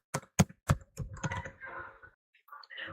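Laptop keyboard typing during word processing, a run of distinct key clicks at an uneven rhythm, close and fairly quiet, trailing into lighter tapping.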